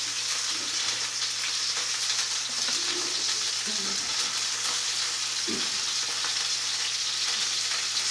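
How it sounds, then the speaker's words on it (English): Chicken sears in a hot frying pan with a dense, continuous loud sizzle and a low steady hum beneath, and a few faint thumps along the way. "So let that sear a little bit."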